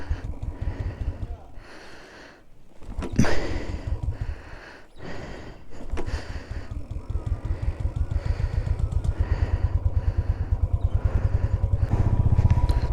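A Bullet motorcycle engine idles in falling snow in Kashmir, a rapid, loud thumping beat that settles into a steady rhythm after some coughs and breaths nearby.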